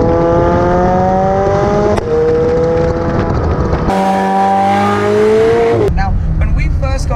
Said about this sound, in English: you can hear maybe the sports exhaust doing its thing in the background